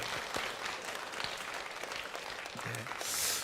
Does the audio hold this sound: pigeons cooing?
no